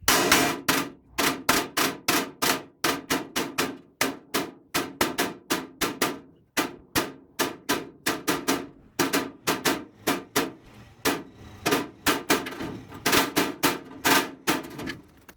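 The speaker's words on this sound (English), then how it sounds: "I hit it with a flathead screwdriver" Rapid metallic tapping of a flathead screwdriver punched along a marked line on a sheet metal boundary wall box gutter, dozens of sharp close strikes in quick uneven bursts with brief pauses.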